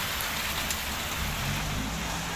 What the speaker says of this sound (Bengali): আজকের বৃষ্টি থামতে না, আজকে বৃষ্টি থামবো না